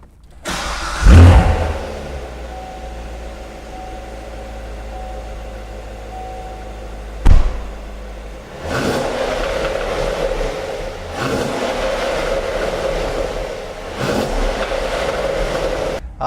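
A warm 2014 Corvette Stingray 3LT Z51 starts with a sharp cranking burst and loud bark, then settles into a steady, rumbling exterior idle with a few small throttle swells, heard close and alone.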